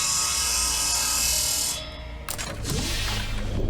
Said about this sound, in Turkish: Testere matkap.